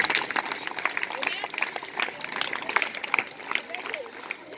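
Children and an audience clap at a school Maths Day event, a continuous moderate patter of applause blended with crowd murmur and some talk.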